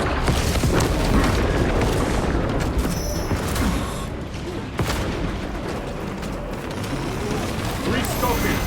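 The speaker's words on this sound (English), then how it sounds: "Bomb deployed." A bomb blast in the action game Warhammer 40k: Space Marine 2, with heavy booming detonations and crackling debris amid dense battle noise, loud and close, sustained through the stretch with sharp bursts near the middle and end.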